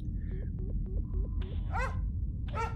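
A dog in the Maia video game gives a run of short yips followed by two higher whining barks, close and clear over a low steady game hum.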